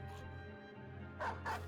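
Dog barking in the game Battle Brothers, two short quiet barks near the end over a low steady game hum, with a faint yip at the start.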